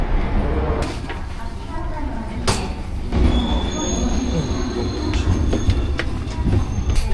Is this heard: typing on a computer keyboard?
no